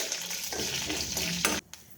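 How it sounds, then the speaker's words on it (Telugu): Coriander and fenugreek seeds sizzle and crackle in a dry hot pan while being stirred, with scraping bursts, then the sound cuts off abruptly. "ఇప్పుడు ఇందులో ధనియాలు, మెంతులు వేసుకుని వేయించుకోవాలి"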